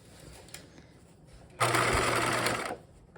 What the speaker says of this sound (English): And then I'm back stitching and everything.